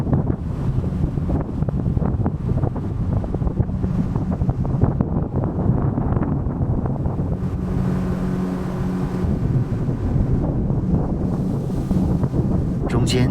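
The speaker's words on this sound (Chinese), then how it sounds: "这个快艇冲浪是免费的" A speedboat surfing ride on the Yellow River at a desert ferry crossing, with the engine droning beneath heavy wind buffeting on the microphone and some splashing, loud and close throughout.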